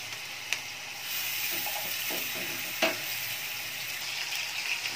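Chapli kebabs fry in oil on a griddle, a steady close sizzle with occasional light clicks and pops, continuous and without talk.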